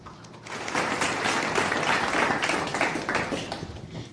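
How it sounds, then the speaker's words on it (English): Audience applause at a healthcare innovation conclave panel discussion, a steady wash of clapping from a sizeable crowd that swells after a brief start and holds for about four seconds. "Let's applaud for Ms. Viloo Williams."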